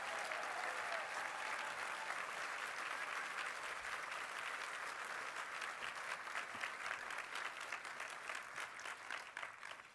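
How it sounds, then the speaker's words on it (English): An audience gives a sustained round of applause at a clean-energy climate gathering, dense and even, many hands clapping continuously for ten seconds at a distance with a faint crowd murmur beneath. "please give all of us a round of applause for doing that"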